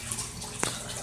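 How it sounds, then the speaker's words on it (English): Water sloshing in a home fish tank holding catfish and crayfish gives a brief splashy burst partway through, over a steady low trickling background. "So we have a lot of water sound going on."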